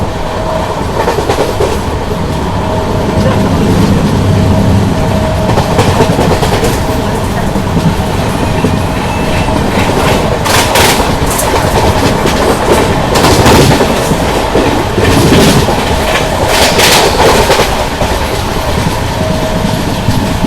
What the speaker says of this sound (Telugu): ట్రాక్ సౌండ్ చూడండి ఎట్లా వస్తుందో టకటగా టకటగా.